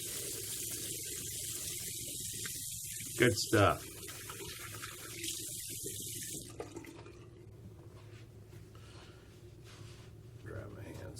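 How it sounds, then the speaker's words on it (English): Water from a tap runs into a sink for several seconds as hands are washed, then stops, leaving a quieter background with a brief spoken remark. "let me get the water going here to wash my hand"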